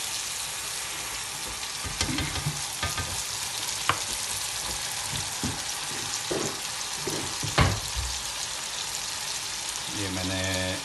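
Marinated chicken cooks with onion and ginger-garlic paste for chicken biryani, making a continuous moderate sizzle broken by spoon scrapes and clinks against the pot, with a brief voice heard faintly.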